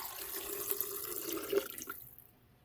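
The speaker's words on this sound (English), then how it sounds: "we're going to start by adding cashews, then your veggie broth." Vegetable broth poured over cashews in a container, with a short close liquid stream that splashes and trickles, then tapers off into quiet after about two seconds.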